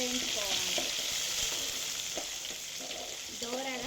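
Green chili, coriander, bay leaf and onion fry in a pan for bagara rice. A constant, fairly quiet sizzle runs throughout, with occasional stirring strokes.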